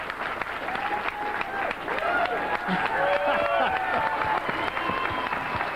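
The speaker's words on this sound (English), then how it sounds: "And as the crowd applauds Efren, and of course Jeff" Applause from a crowd at a 1995 8-ball billiards final, steady dense clapping that holds for several seconds while a commentator talks over it.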